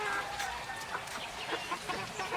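Backyard breeding hens cluck close by, with several short overlapping clucks and soft calls in quick succession against a busy background.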